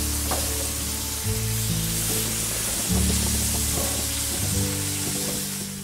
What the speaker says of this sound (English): In go the burgers to cook on a medium heat.